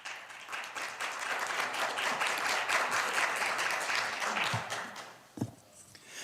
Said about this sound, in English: Please welcome him onto the podium with a big round of applause.